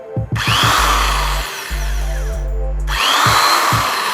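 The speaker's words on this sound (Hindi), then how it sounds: "तो चलें अब मैं ड्रिल को ऑन करके दिखाता हूँ।" An electric drill machine rated 220 volts and 50 hertz starts with a few short test bursts, then runs in a loud, close, steady whine, stops briefly, spins up again and winds down into a rough scraping finish.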